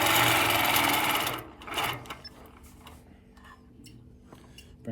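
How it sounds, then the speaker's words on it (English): A Handi Quilter Moxie quilting machine basting a quilt runs loud and steady for over a second, then stops, with a shorter burst and faint ticks and clicks following. "So we're just going to baste this side as well."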